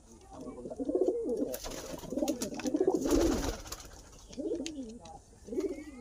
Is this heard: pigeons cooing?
yes